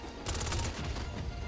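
Gunfire in the video game GTA Online, a quick burst of rapid shots rattling in a dense cluster, loud and close, with no talk over it.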